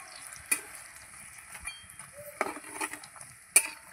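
Pakoras fry in hot oil for a Bengali winter lunch, a quiet steady sizzle broken by a few sharp crackles and pops, close by with no talk.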